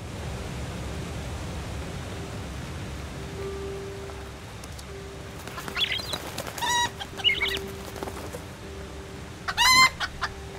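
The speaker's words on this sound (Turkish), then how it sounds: "Dolanıyor orada tavuk ya." A chicken in the Wild West game El Hijo clucks in a few short bursts over steady background hiss and a low hum, with some wing-flap-like rustles and a sharper squawk near the end.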